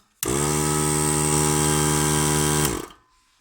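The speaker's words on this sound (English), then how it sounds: "I'm going to turn my air compressor on." A small pancake air compressor switches on and runs with a steady, loud motor hum and drone for under three seconds, then shuts off abruptly and leaves near-silence.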